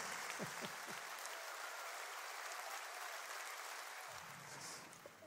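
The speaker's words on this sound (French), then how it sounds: "J'aimerais beaucoup qu'on l'applaudisse." A concert-hall audience at the Olympia applauds in a steady, continuous wash of clapping that stays even throughout, easing slightly at the very end.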